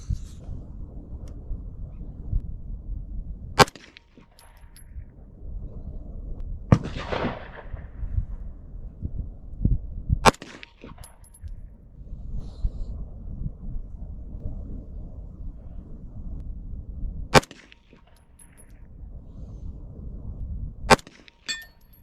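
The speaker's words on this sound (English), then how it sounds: "We'll try to ring steel here at 100 yards." Shots from a Zenith ZF5 aimed at a steel target 100 yards away, five sharp, loud reports spaced several seconds apart, with faint ringing after some shots and a low rumble of wind and movement in between.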